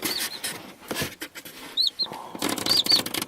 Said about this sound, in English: There's a peeping noise inside here.